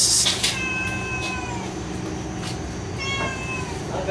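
A cat meows indoors: two clear, drawn-out cries about two seconds apart, close and fairly loud over a low background hum.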